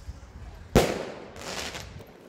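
A firework bang on bonfire night, one sharp loud burst followed by a crackling rumble that fades, with a second fainter crackle over distant outdoor noise.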